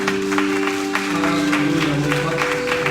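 A church congregation applauds during a Thursday prayer service, brief lively clapping mixed with voices and sustained tones.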